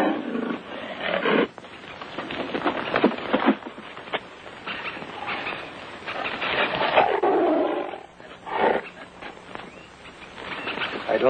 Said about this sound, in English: Why, this is the growl of a cornered tiger.